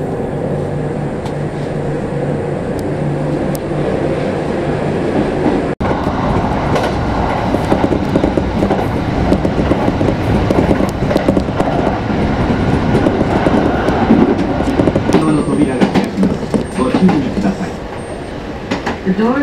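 Kintetsu Nagoya Line train running, heard from on board: a steady low rumble of wheels and motors with rhythmic rail clatter building over time, and faint voices in the carriage.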